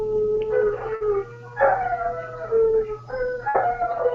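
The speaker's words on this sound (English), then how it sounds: "I have 3 Rottweilers outside, and they have started howling" Three Rottweilers howl outside together, long rising and falling wavering howls overlapping one another, steady and fairly loud with no talk.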